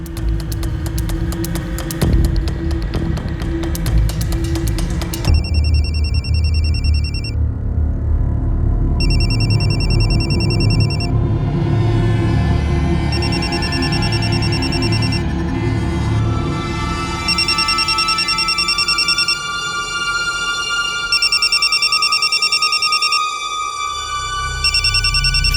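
A telephone rings late at night in a Crime Patrol TV drama scene, sounding as repeated tonal ring pulses over a loud, droning musical bed that fades toward the end, with no speech.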